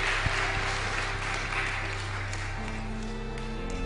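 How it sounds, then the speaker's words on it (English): Audience clapping at a Girls Rock Power TV studio taping as a group of girls is welcomed onto the stage, moderate applause over a steady low hum. "Give them a round of applause."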